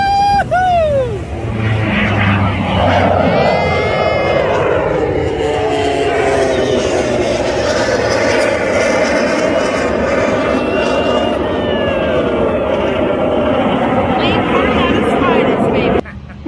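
A Yak-110 propeller aircraft roars past overhead, its engine pitch sweeping as it passes, loud and sustained, with excited voices over the noise.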